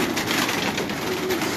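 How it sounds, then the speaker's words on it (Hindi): Rampuri pigeons coo steadily at close range in a loft of mixed breeds, a continuous soft murmur of overlapping calls with faint rustling beneath. "हर तरह के मुख्तलिफ कबूतर जो है वो दिखाएं"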